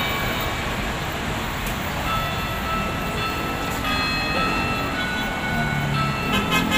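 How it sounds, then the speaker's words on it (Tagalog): Manila MRT train rumbling past amid busy city street noise near Baclaran, a continuous heavy roar with metallic squeals and a faint horn-like tone, fairly loud, with a little background voice. "Yan yung MRT oh."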